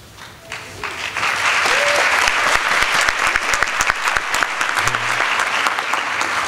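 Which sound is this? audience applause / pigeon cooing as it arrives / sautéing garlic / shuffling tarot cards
audience applause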